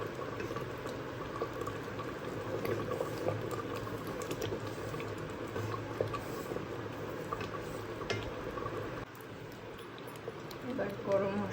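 Khichuri boiling in a pot as its water cooks off, a faint steady bubbling and sputtering of thick simmering liquid, close and continuous, with a slight drop in level near the end.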